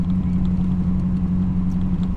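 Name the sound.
1972 Datsun 580Z with 355 Chevy V8 engine driving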